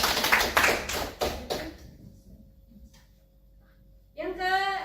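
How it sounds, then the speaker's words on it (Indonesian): A burst of about five sharp hand claps in a quick, steady rhythm, close and loud, followed by a short pause and then a voice speaking. "Tepuk tangan."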